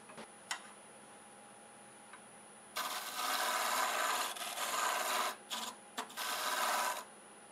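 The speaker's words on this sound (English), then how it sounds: "I'm going to use my negative rake scraper just to refine that a little bit." A negative rake scraper cutting a six-sided inside-out wooden Christmas ornament on a lathe: after a quiet motor hum with a few taps, a loud rasping scrape runs in several long bursts with brief pauses.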